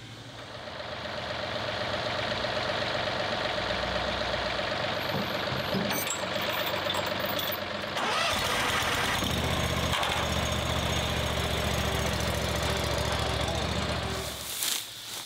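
A lawn mower fitted with Meg-MO blades runs steadily through grass that is almost too tall to mow, a continuous droning engine that shifts in load partway through, with some voice faintly underneath.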